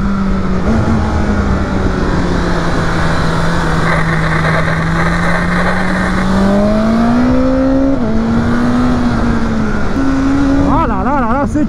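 A 2021 BMW S1000R motorcycle with a 165 hp engine holds a loud, close, steady drone whose pitch rises gradually as it accelerates. A brief warble comes at the very end.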